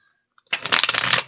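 A single quick riffle of tarot cards being shuffled, close and crisp, lasting about a second.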